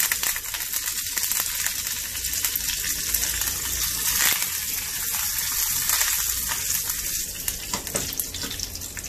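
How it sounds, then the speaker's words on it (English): Mustard seeds and curry leaves sizzling in hot oil for a sour spinach (pulicha keerai) curry, a steady dense crackle and spatter from close up with no talking. "the mustard seeds has started spluttering. I'm going to add in the curry leaves"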